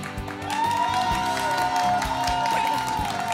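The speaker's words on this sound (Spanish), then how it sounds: "Y escuchemos la ovación de nuestro público." Studio audience applause and cheering at a children's TV show taping, a steady crowd roar of clapping mixed with a sustained musical tone, loud and continuous throughout.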